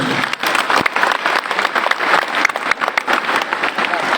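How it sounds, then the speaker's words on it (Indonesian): Dense applause from a gathered audience at a martial arts association event, a steady crackling wash of many hands clapping for a few seconds with light voices mixed in. "Tepuk tangan untuk semuanya."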